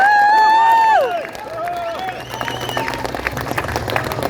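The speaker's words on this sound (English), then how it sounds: "Big round of applause for Ross." Crowd applause and cheering at a speech event, rising after a loud voice fades, with dense clapping and shouts continuing steadily at moderate level.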